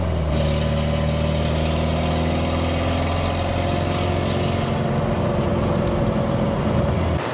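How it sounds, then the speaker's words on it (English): A car engine idles loudly with no muffler, giving a rough, steady low rumble that never lets up. "It sounds like there's a hole in the exhaust"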